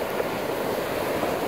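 Waves and tidal current surge near the curving mouth of a waterway, a steady broadband wash with wind buffeting the microphone, constant and close throughout.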